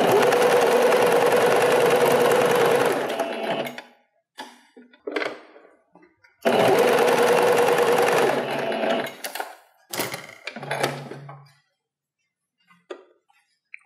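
A sewing machine stitches lycra fabric in two long steady bursts of rapid whirring, close and loud, separated by pauses filled with small clicks and handling sounds as the material is stretched and repositioned.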